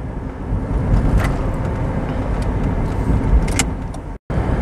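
A car driving in third gear at about 40 km/h and 1500 rpm, heard from inside the cabin as a steady, fairly loud road and engine rumble with a brief dropout near the end.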